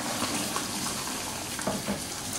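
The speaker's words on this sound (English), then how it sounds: "drain the noodles and the mange tout into a colander" Hot water and cooked noodles with mange tout pour into a colander, a steady close rush and splash of draining water without any talk.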